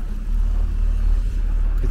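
Low, steady engine rumble of a city bus passing on a street in Norilsk in winter at -10°C, a continuous drone without a clear peak.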